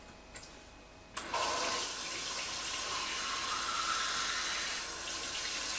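Tap water gushes from a faucet into a glass, starting abruptly after a quiet moment and then running steadily and fairly close, with no talking over it.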